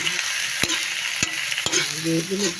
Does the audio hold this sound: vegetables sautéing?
yes